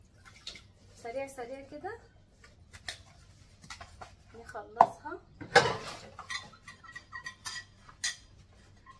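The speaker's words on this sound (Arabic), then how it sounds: "تعالوا بقى نخلص المواعين اللي اتوسخت مننا" Dirty dishes, pots and cutlery get washed by hand in a home kitchen: scattered clinks, clatters and scrapes of metal and crockery, with someone speaking quietly in between.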